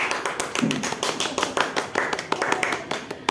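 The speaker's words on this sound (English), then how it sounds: "Everybody, clap your hands." A small group claps hands at a coffee chat gathering, giving loose, uneven bursts of sharp claps that spread across several seconds, close and fairly loud, with a brief murmur of voices in the background.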